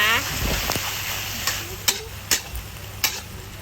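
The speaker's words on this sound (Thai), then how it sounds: "หลังจากนั้นก็ผัดคลุกเคล้าให้ทั่วเลยค่ะ" Wide rice noodles being stir-fried with soy sauce in a pan, with a continuous sizzle broken by a few sharp scraping clicks of the spatula, close by and under a spoken voice.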